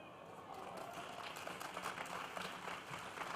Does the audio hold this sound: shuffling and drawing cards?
no